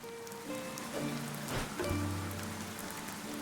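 Steady rain falls in the video game Dead in Vinland 2, a soft continuous patter under low sustained tones of game music.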